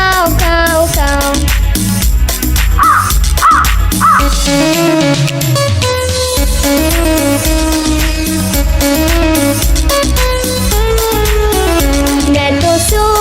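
A singing voice imitates a crow with three quick caws in a Hindi children's song, set over loud, continuous music.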